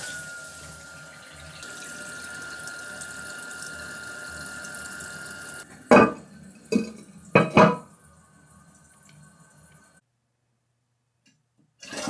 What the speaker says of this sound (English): And last, turn on the water to the toilet.